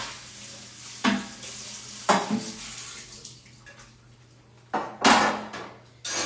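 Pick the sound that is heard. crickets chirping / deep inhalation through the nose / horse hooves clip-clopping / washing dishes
washing dishes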